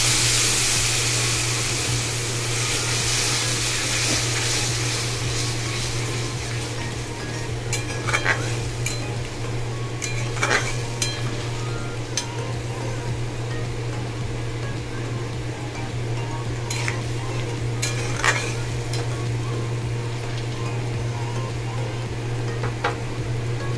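Prawn malai curry masala sizzling in a pan after water is added, with a continuous bubbling frying hiss, occasional sharp scrapes and clinks of a spoon stirring against the pot, and a steady low hum beneath.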